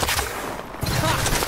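Dense, continuous rapid gunfire in the battle-royale shooter Farlight 84, loud and close, with a brief lull midway before the firing picks up again.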